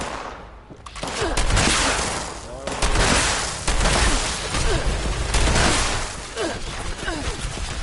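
Dense, rapid turret gunfire in a PS4 shooter game, a near-continuous fusillade of overlapping shots and blasts with a voice talking over parts of it.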